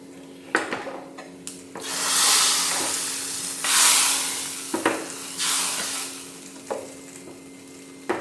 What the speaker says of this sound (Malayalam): കടുക് പൊട്ടിക്കണ്ടേ